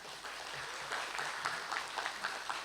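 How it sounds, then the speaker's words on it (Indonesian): Faint applause from an audience at an anniversary gathering, a soft continuous patter of many hands heard from a distance, steady throughout. "Tepuk tangan dulu buat mereka."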